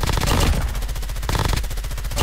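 Rapid automatic fire from the M13 gun in the video game COD Mobile, a loud, close, continuous string of evenly spaced shots with no pauses.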